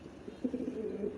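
Pigeons kept for sale cooing softly in a loft, a low continuous murmuring of several birds with gentle rises, fairly quiet and steady throughout with no speech.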